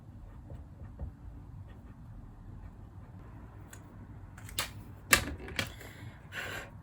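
Typewriter-like clacking as a note is written in the Kapla video game, quiet at first, then a handful of louder sharp key strikes toward the end over a soft background hiss.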